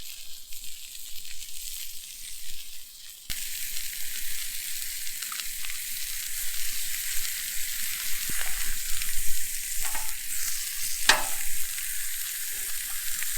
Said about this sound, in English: So we're just going to baste our corn in the butter.